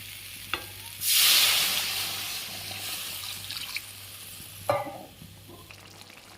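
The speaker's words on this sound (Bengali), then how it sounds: "দেখো মশলাগুলো সব কষানো হয়ে গেছে, এখন আমি মটরশুঁটি দিয়ে দিলাম। হয়ে গেছে, এখন জল দিয়ে দেব।" Water poured into a pan of spiced pea curry, a loud rushing sizzle that bursts in and then settles into a steady hiss, with a couple of clanks of a utensil near the pan.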